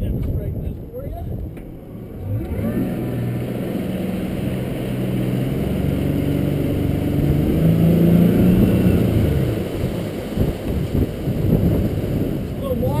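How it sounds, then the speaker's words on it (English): A 2016 Defiance 220 Admiral EX motorboat engine drones steadily at low pitch, rising slightly in intensity midway, with wind buffeting the microphone and a voice talking over it. "I'm going to go ahead and steer the boat over here."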